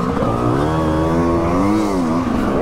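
An enduro motorcycle engine runs loud and close during a beach enduro race at Le Touquet, a steady strained drone with rising and falling pitch as the throttle shifts, with no voices.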